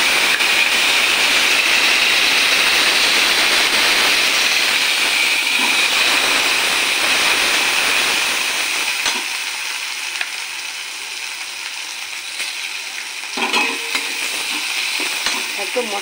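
Potatoes and eggplant frying with black cumin in a wok, a loud close sizzling hiss with stirring, strongest at first, then settling into a softer fizz with a few scrapes and clatters of the spatula.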